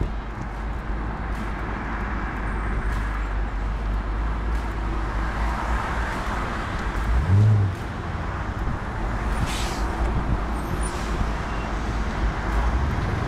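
A 2006 Chevrolet Corvette Z06 convertible with an automatic transmission driving, giving a steady, fairly loud low engine drone and road rumble throughout, with a brief deeper swell midway.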